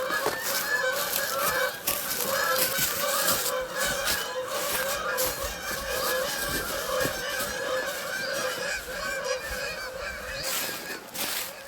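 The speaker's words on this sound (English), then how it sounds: "the sound of the Canada geese flying north on their migration" Canada geese flying north on spring migration over Canadian wilderness, honking in a continuous, overlapping chorus of calls at moderate distance, with no pause across the stretch.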